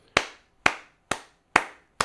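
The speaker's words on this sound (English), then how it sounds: "a big round of applause for the world's greatest moderator" Five slow, evenly spaced hand claps, crisp and close, marking a round of applause for a webinar moderator during a live Non-Farm Payrolls broadcast.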